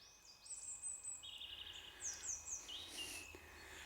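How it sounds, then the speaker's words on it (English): Birds whistle and chirp in short, bright bursts over quiet outdoor background on a small road near Rydal in the Lake District, fairly faint and a little distant, with no one speaking. "Can you hear the birds whistling?"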